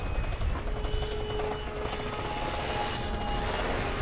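Aircraft engine droning and buzzing steadily as the plane flies a low inverted pass during aerobatics in light wind, loud and close with a slight rise in pitch toward the end, no talking.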